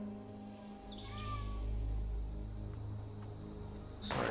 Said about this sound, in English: Sorry if you hear my cat, he can't ever make up his mind whether he wants in or out.